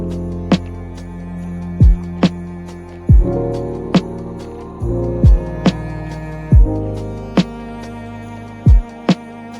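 A lo-fi beat plays four sustained chords built with the RIP Chord plugin over punchy kick drums and crisp snare hits in a steady, relaxed groove.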